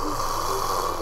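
A voice imitates snoring with a single short, rough, nasal rasp, close and fairly loud.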